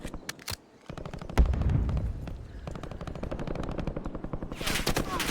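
Rapid automatic gunfire from Call of Duty Warzone gameplay, dense repeated shots with a heavy blast partway through and a burst of crackling bright noise at the end, loud and close.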